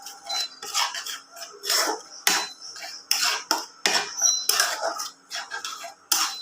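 Fish roe curry with mango being stirred in a pan, a series of close metallic clinks and scrapes of a spoon against the pan at an irregular pace, with no voices.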